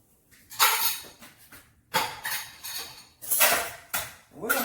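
Metal baking pans and dishes shoved aside on a kitchen counter while making room to bake cornbread, four loud clattering bursts of scraping and clanking, close by with no talk.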